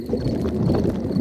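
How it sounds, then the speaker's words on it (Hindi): A cartoon pig's stomach rumbles in a Hindi Peppa Pig cartoon, a low, continuous gurgling churn that stays steady and fairly loud for about a second, with no talk. "ये डैडी के पेट की आवाज है।"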